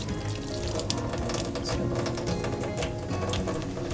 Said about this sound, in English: but let me wash my hands.